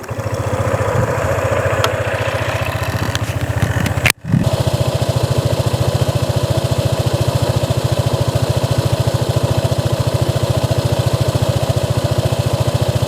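A 2022 Honda ADV150 scooter engine idles steadily and close by, a constant low rhythmic thrum with a brief dip around the start before settling into an even, unbroken idle.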